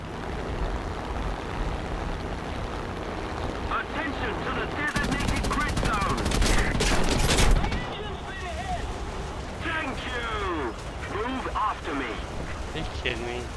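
Machine-gun fire and heavy explosions crackle through a video game battle at Stalingrad, with a loud sustained barrage in the middle and scattered shots around it, while people talk throughout.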